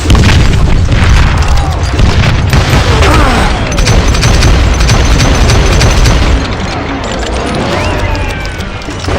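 Dynamite blasts in the Western shooter game Call of Juarez: Gunslinger, a dense, continuous barrage of loud booming explosions and crashing debris rolling one into the next with little pause.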